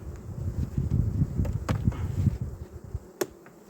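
Honey bees at an apiary hive buzz in a low, steady drone close by, with individual bees whizzing past now and then while frames are handled during autumn preparation for winter.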